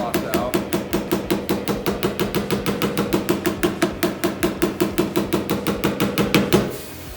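A hammer strikes a Toyota Tacoma body panel again and again in a fast, even rhythm, each sharp metallic tap ringing close and loud, as high spots are worked out before the blows stop.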